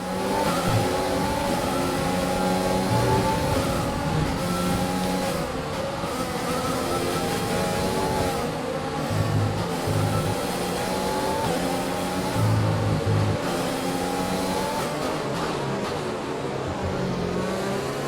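An F1 car races in the video game F1 2020, its engine a loud, steady high-revving drone with rising and falling pitch through a turn, heard alone and without pause.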